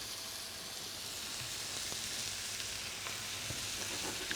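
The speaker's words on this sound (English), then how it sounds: "And now in with a nice chunk of butter." A chunk of butter melts in a hot pan, producing a strong, steady sizzle with light spattering crackles heard up close and alone.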